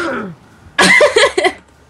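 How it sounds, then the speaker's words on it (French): A man clears his throat in a short, loud, rough burst of two or three rasping pulses, following a brief faint vocal sound. "J'essaie juste de racler la gorge."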